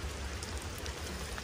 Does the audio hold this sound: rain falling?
yes